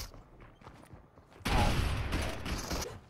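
SMG fire in the Fortnite video game, a sudden loud sustained burst of rapid shots that starts partway through and continues to the end after a quieter stretch of game sounds.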